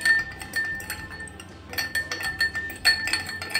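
A spoon clinks against a glass while stirring a Rooh Afza lemon sharbat with sugar, a quick series of light, close rattling taps that comes in bursts over a quiet background.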